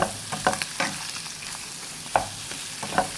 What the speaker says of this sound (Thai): จากนั้นก็ตามด้วยหมูยอนะคะ ให้เข้ากัน